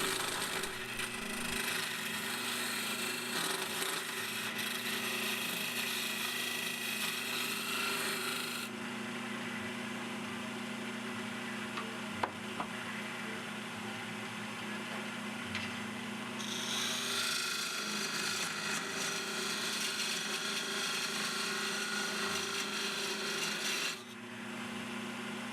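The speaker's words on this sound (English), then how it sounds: "I use a skew chisel just to level it out and square up the end" A skew chisel cuts across a spinning wooden vase tenon on a lathe, producing a continuous rasping, scraping hiss over the steady motor hum, close up and without speech.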